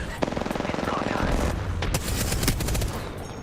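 Rapid automatic gunfire in a first-person shooter video game, a loud, dense stream of close shots with further bursts and impacts layered over one another, no talking over it.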